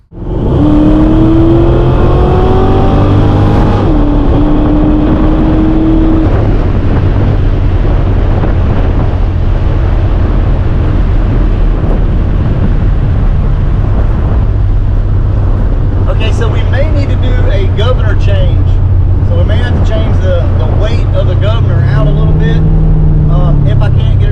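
A Ford Fox Body car with a 4R70W automatic transmission makes full-throttle pulls, its engine note rising and shifting under heavy wind rush inside the cabin. A person talks over the drive.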